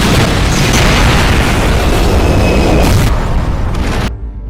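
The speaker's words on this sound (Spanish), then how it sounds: "observamos desde los lejos esa explosión que acaba de ocurrir" A loud, sustained explosion in an animated Skibidi Toilet episode after a missile strike, rumbling heavily for about four seconds before cutting off abruptly.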